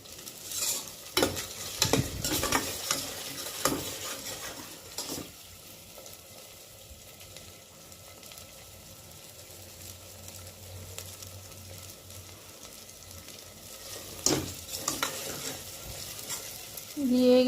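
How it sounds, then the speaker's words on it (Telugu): Ginger paste frying for a mutton coconut curry, a steady sizzle with repeated stirring scrapes and clatters of a spoon against the pan, louder bursts near the start and end, no talking. "ఈ అల్లం పేస్ట్ వేసిన తర్వాత ఒక 2 మినిట్స్ వేగాలి"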